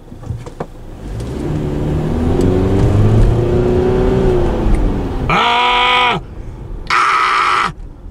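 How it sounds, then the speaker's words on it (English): A 2022 Subaru Forester engine pulls hard under acceleration, its tone rising steadily as revs climb, followed by two short loud bursts of a harsh tonal sound near the end. "I love the sound of the engine"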